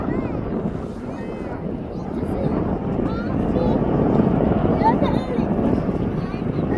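A Jet2 airliner departs Birmingham Airport for Agadir, its distant, steady jet roar building slightly and blended with gusty wind buffeting the microphone, while a person talks over it.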